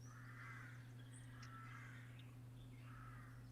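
A crow caws outdoors in three harsh bursts spaced about a second apart, fairly clear over a steady low electrical hum.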